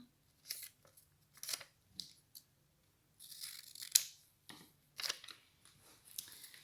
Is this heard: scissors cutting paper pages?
yes